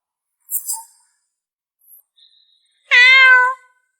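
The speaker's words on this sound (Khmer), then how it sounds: "វាបានបង្ហាញថាឆ្មារបស់អ្នកជិតខាងបានរត់ត្រឡប់មកវិញ" A neighbour's cat gives a few faint high squeaks, then one loud, clear drawn-out meow near the end, heard alone in a quiet setting.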